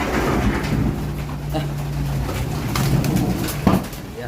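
Pigeons cooing in a loft, with a low steady cooing tone under scattered shuffling and background noise, fairly close.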